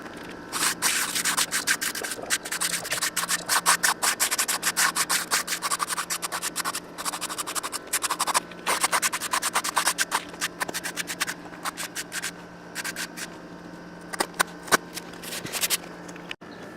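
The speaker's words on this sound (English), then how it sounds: "It's a funky shape, so I'm using a pool trowel." A pool trowel rasps and scrapes across freshly poured concrete on a homemade driveway, a close, continuous gritty rubbing made of rapid strokes, with no talking.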